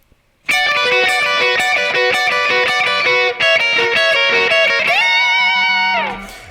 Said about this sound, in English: we're going to add the other guitar part on,